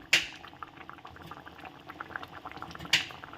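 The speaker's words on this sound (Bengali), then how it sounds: "এগুলো সিদ্ধ হতে থাক।" Moong dal lentils boil in water in a pot, a close bubbling burble with a sharp splash at the start and another near the end, no voices.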